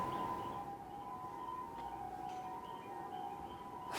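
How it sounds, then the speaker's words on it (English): A faint siren wails steadily in the distance, its tone holding fairly level through a quiet background hum. "Stop making a siren."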